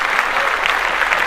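A studio crowd at the BET Awards breaks into loud applause after a speech, a short, dense burst of clapping with no voices over it.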